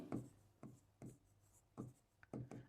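Marker or chalk strokes on a board during a maths lesson on logarithms, with short scratchy bursts of writing separated by brief gaps, faint and close.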